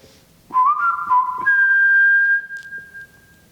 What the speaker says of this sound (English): If we whistled, could we hear the reverberations in here?